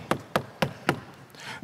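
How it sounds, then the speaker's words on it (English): Knocking on a door: four sharp, evenly spaced raps, close and fairly loud, followed by a faint rustle. "somebody's knocking on the door."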